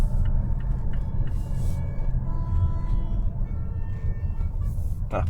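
A bus passing in light morning traffic, a low, steady engine rumble that holds throughout, with a few brief brighter noises over it.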